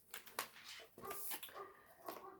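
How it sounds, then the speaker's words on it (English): A dog barks and yelps off in another room of a home, several short uneven calls over about two seconds, moderately loud with some whimpering tones mixed in. "Dog's off barking."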